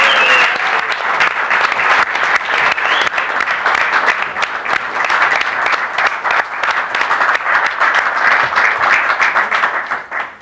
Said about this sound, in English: Please, everybody here, give them a big round of applause.